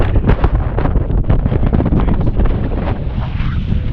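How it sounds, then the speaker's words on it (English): Heavy wind in the Eastern Cairngorms, Scotland, roars and gusts against the microphone, loud and unbroken, with rough bursts throughout. "It's not that cold, but it is really windy."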